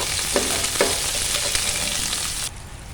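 Chopped onions, small onions and curry leaves sizzle steadily in a hot pan for a brinjal and potato poriyal, the frying crackling close and loud with a few stirring scrapes before the sizzle abruptly softens near the end.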